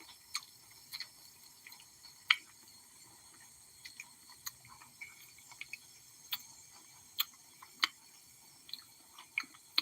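Someone chews and eats a fresh tomato close to the mic, quiet wet squishy bites and crunches in an irregular rhythm over a faint background hum.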